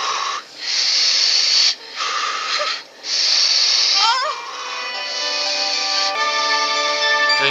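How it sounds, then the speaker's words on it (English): Heavy, wheezing breaths from a man turning into a snake in a TV show, several loud hissing inhales and exhales with brief pauses, then shifting into warbling, tonal effects. "Breathing heavily."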